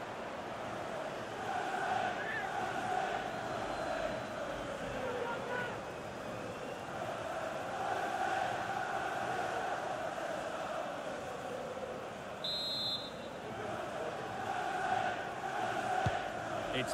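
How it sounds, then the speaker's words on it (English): A stadium crowd in EA Sports FC 24 during a Chelsea vs West Ham United Premier League match roars steadily, a sustained broad rumble that swells and dips over many seconds. "The crowd encouraging him to take it on"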